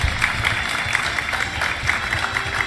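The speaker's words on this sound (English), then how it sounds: "So let's give him also a round of applause" Audience applause: a steady patter of many hands clapping at moderate volume, continuous throughout with no voices standing out.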